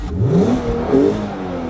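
A Volkswagen Golf 5 R32 with its stock exhaust revs up in two rising pulls, the engine note climbing, dipping and climbing again, loud and close with no talking.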